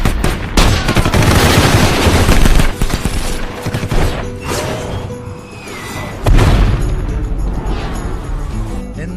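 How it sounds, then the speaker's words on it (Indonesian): Film gunfight from Mr & Mrs Smith: dense bursts of automatic gunfire and sharp shots crackle loudly, with heavy booms and brief lulls between volleys. "mereka keluar dan menembaki para agen yang sudah mengepung mereka"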